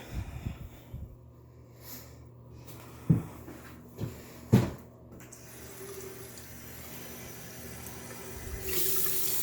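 Water runs steadily from a bathroom tap into a sink at good pressure, with a few sharp knocks and splashes and a louder gush near the end.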